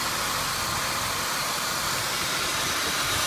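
A 2003 Ford Taurus with a 3.0-liter overhead-valve V6 idles smoothly, giving a steady, even hum and broad noise throughout with no change in pitch.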